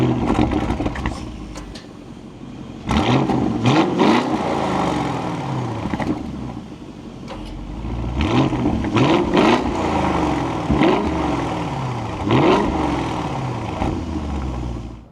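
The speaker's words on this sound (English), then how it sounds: "keep my foot on the brake, let's fire it up" A 2026 Audi SQ8 Prestige starts up from inside the cabin, with the engine catching and then revving in several rising and falling swells over a steady idle, loud and close, and no talking.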